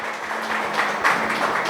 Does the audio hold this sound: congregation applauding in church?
yes